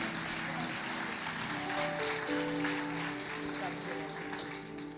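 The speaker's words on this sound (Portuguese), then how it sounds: "Vamos dar um aplauso pela vida do pastor Adriano." A church congregation applauds at an evening service, a continuous wash of clapping with organ or keyboard tones sustained underneath and faint voices mixed in.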